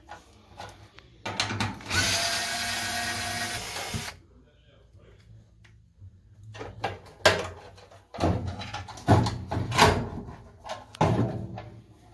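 A power tool whirs for a couple of seconds while nuts are removed from the lint trap compartment of a Whirlpool Duet dryer, followed by scattered metallic clunks and handling noises, with someone talking over much of it.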